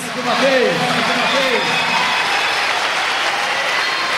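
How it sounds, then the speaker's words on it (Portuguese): Church congregation at a convention service applauds in a broad, continuous wash of clapping that fills a large hall, with a voice rising briefly over the start of the applause. "Dê um forte aplauso a Ele mais uma vez"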